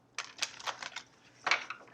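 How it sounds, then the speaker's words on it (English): Tarot cards are shuffled close by, a quick run of crisp riffling flutters and soft slaps in two short bursts, with no voice over them. "Shuffle the cards."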